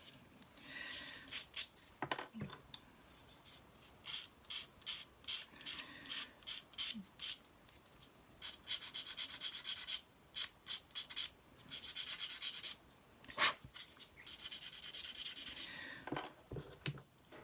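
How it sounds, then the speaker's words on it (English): Thin sanding sticks scrape away tabs and sprue gates on a 1/72 Airfix Hawker Siddeley Harrier GR.3 plastic kit, making quick, close, rhythmic rasping strokes in short bursts with small pauses, quiet overall. "A few swipes of these Floyd skinny sticks make short work of any of these little tabs, sprue gates"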